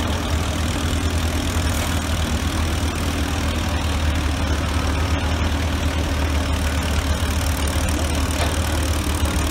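An Oliver tractor and a Case tractor hitched together for double tree pulling idle with a steady, loud, low mechanical drone that stays even throughout, close by, with no voices.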